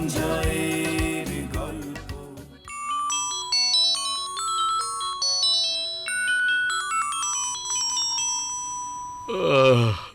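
A melodic electronic ringtone plays a repeating tune of clear beeping notes for several seconds, with a burst of music before and after it.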